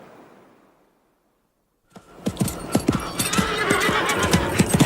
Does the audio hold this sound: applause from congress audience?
no